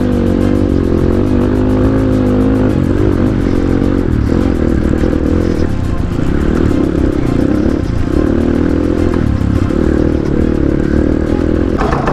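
A GPX Moto FSE 250e dirt bike rides at Soldier's Pass off-road. The engine drones loud and continuous, its pitch shifting with throttle changes, over rattling and scraping from the bike. No one speaks.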